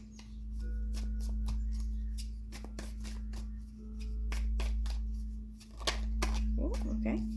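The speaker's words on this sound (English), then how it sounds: "I'm going to try to shuffle a little bit first before I actually pull cards." Tarot cards are shuffled by hand in a series of sharp, close card snaps and quick flutters spread across the clip, set over a low steady hum, with no voices.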